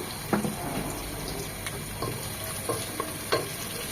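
Chopped onion frying in oil with whole spices for a beef rezala, a steady close sizzle broken by a few sharp stirring clicks and scrapes, with no voices.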